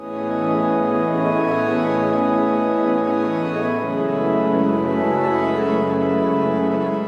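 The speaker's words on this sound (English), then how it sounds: "It's super easy to create really lush and dreamy pads in the new Serum 2 synth." A lush, sustained Serum 2 synth pad holds warm layered chords, shifting smoothly to a new chord midway, with no talking.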